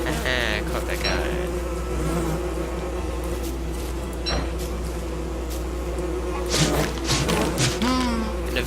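Bees buzz in a video game, a close, steady insect drone that goes on throughout. Occasional thuds and knocks from the game play under it.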